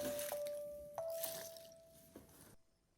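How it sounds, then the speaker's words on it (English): Vegetables are stirred into tempura batter of egg, water and flour in a bowl, giving faint wet squishing and dripping sounds with a few soft clicks, ending in near silence. "Add vegetables and mix."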